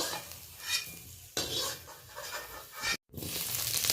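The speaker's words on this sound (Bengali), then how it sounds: "ডাটা ভেজে নেওয়ার পরে পেঁপেটা হালকা করে একটু নাড়াচাড়া করে নিচ্ছি।" Vegetables being stirred in a little oil in a pan: papaya pieces with fried drumstick stalks. Spoon scrapes and clinks against the pan come in short bursts over a soft sizzle, with a brief silent gap near the end and no talk.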